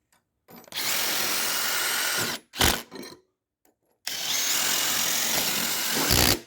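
A power tool drives a nut tight on a folding electric awning being installed on a concrete house with a drivit finish, two loud sustained whirring bursts close by, separated by a short stop and a brief jolt.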